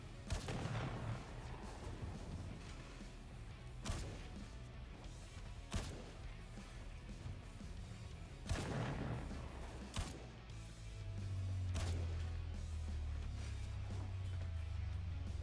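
Repeated sharp gunshots from Warframe fire at orbs inside a maze: loud cracks spaced a second or two apart over steady game ambience and a low rumbling drone, with no voices.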